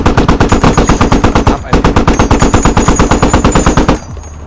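Sustained machine-gun fire in the military shooter game Squad, loud, rapid and rhythmic, with one short pause near the middle before the bursts resume, then stopping abruptly.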